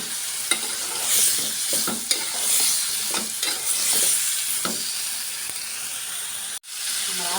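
Potatoes frying with spiced masala in a pan for aloo dum, loud steady sizzle and hiss broken by repeated spoon stirs and scrapes, with a sudden brief dropout near the end.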